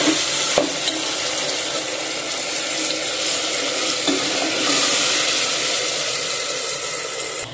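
A spoon steadily scrapes and stirs masala with softened tomato in a hot pan for chicken gravy, over a continuous loud sizzle and hiss, with a few sharp knocks against the pan.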